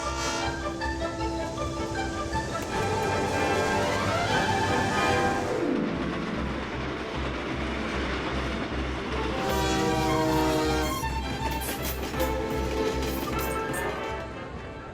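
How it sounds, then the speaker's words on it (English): A diesel locomotive rumbles steadily past with a long blaring horn that sounds, pauses, then blasts again, over a continuous rolling drone. "We moved from the steam engine to the diesel locomotive."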